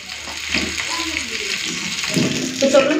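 Tandoori-style fish frying in a frying pan, a steady soft sizzle running throughout, with someone talking over it and a few light clinks toward the end.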